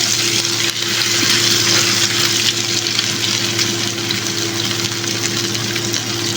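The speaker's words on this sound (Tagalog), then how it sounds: "Magprito naman tayo ng fish." Continuous loud crackling sizzle of fish frying in oil, steady throughout, with a low hum beneath it.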